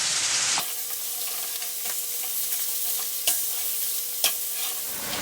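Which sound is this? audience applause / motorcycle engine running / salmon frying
salmon frying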